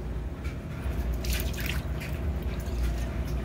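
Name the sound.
water dripping from a hat's ventilation holes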